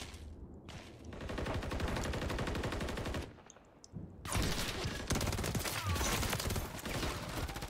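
A video game weapon with a 100-round magazine fires long, rapid bursts of gunfire. The rattling volleys are loud and continuous and break off briefly around the middle before resuming, with no voices.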